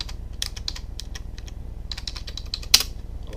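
Fingers type on a computer keyboard, a quick run of light, close clicks in uneven bursts with one sharper key strike near the end, over a low background hum.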